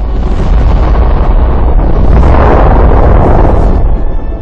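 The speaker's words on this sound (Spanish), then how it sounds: "La explosión partió la popa del barco." A ship's ammunition magazine blows apart in a wartime naval battle sequence from a film about the sinking of the Bismarck. The blast is loud and sustained, with a dense, roaring rumble filling the whole stretch without a break.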